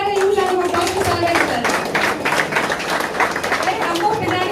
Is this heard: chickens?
no